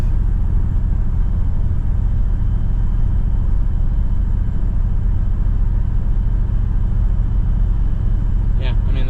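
Chevrolet Trailblazer SS on coilovers cruising at about 58 mph over a rough road, a steady low cabin rumble of engine and tyre noise throughout, with a brief faint squeak near the end.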